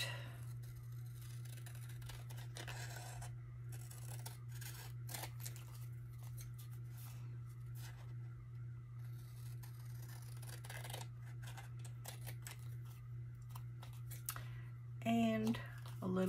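Scissors snip steadily through a paper sack, the small cuts close and quiet in a repeating rhythm, with a brief rustle of handled paper near the end.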